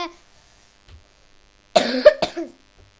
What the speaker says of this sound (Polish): mam kaszel lekki, ale to na mnie przeszkodzi w nagrywaniu, w wygraniu